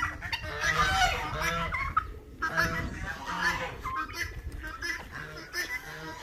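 Roosters and guinea fowl cluck and call in a busy, overlapping chorus close by, with harsh repeated cries rising and falling.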